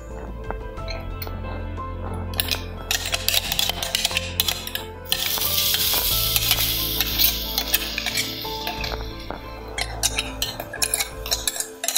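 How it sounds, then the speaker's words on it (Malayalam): Ground ginger and green chilli paste sizzles in hot oil in a pan, a steady hiss that swells partway through, with metal utensil clinks and scrapes throughout. "അതിലേക്ക് ഫസ്റ്റ് ഇഞ്ചി പച്ചമുളക് ഇടണം"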